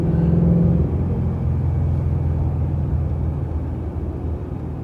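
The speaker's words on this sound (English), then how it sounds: "wind the car out and go around some turns" Interior drive in a BMW E92 M3: a steady low engine drone with a brief higher note early on that eases off, then continuous road rumble, close and fairly loud with no talk.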